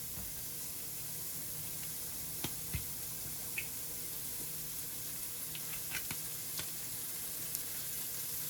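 Chopped onions sauté in hot oil in a pot for a homemade tomato sauce, a steady close sizzle with scattered pops and spits, alone without talk.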